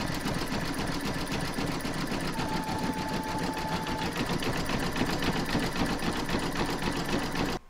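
A home embroidery machine stitches a zigzag round around the edge of an in-the-hoop photo frame, its rapid steady needle clatter running loud and unbroken for the whole stretch before stopping abruptly.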